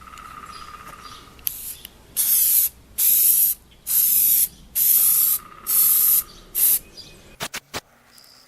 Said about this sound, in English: First coat, Rust-Oleum Universal Bonding Primer. Bonds to any surface.